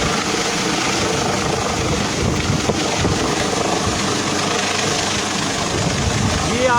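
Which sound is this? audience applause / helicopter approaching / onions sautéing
helicopter approaching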